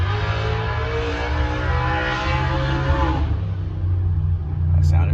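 A Gen1 Coyote V8 car runs hard on a dyno with stock exhaust, a loud, close, steady engine roar that holds, then eases slightly toward the end, with a voice briefly audible.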